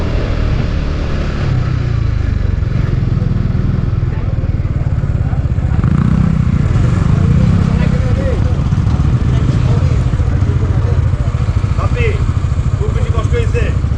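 A motorcycle climbs a mountain road toward Keokradong in Bangladesh, its steady engine rumble mixed with constant loud wind buffeting, while a rider talks over the noise.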